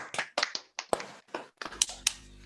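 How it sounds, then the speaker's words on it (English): A few scattered handclaps from people in an online meeting after a presentation, sharp separate claps in an uneven burst, close and sparse with no crowd wash. "give a big round of applause for what was quite an impressive presentation"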